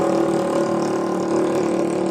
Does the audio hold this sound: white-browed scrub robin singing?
no